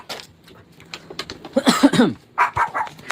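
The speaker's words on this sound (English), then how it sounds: "Something is underneath my house, and now the dogs are going crazy." Dogs barking excitedly at something under a house: a cluster of loud, close barks in the middle, with scattered short sounds and noises before and after.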